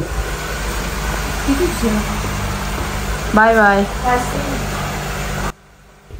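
Car engine idling steadily close by on a cold, windy morning in Texas as a young daughter is driven to school, a constant low rumble under brief talk and a short farewell, cutting off abruptly near the end.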